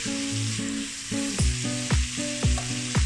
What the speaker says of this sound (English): Let's mix everything together.